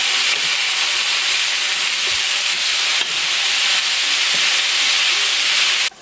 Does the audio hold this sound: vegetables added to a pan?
yes